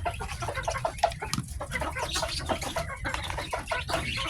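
Rhode Island chickens cluck busily at feeding time, a close flock of overlapping clucks and squawks with a faint crow in the mix, continuous and without voices.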